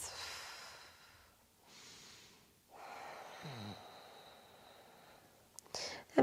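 Steady, deep breathing during a yoga pose, with slow, soft inhales and exhales close to the microphone over a quiet background hiss, and a faint rustle at the end.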